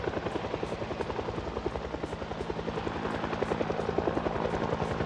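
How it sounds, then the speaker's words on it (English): A helicopter in the zombie survival game Project Zomboid thumps steadily overhead, its rapid rotor chop pulsing loud and continuous throughout. "Because the zombies are all attracted to the sound of the helicopter."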